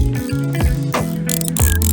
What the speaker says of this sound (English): So we're gonna tap some holes